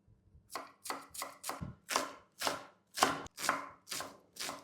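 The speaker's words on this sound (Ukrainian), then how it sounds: "гострий ніж у ділі, цибульку навпіл і нарізаємо кубиком" A sharp knife dices an onion on a cutting board, about ten crisp, evenly spaced strokes close up, with no talking.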